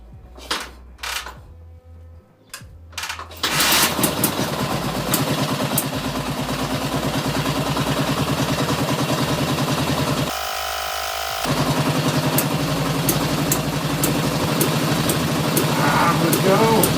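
A 1945 Soviet M-72 flathead motorcycle engine, long neglected, coughs through a few short bursts and then catches, running steadily loud and close with a dense, even firing rhythm that dips briefly before picking back up.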